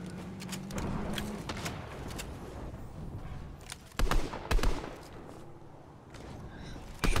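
Scattered gunshots and impacts in the PC battle royale game Fortnite during a solo arena match, a couple of loud sharp bursts around the middle over continuous game ambience, with some voice in the background.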